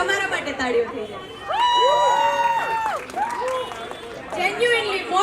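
An audience applauds and cheers at a Kathiyawadi thali restaurant inauguration, clapping and chatter building under a host's amplified voice, then a second swell of cheering near the end.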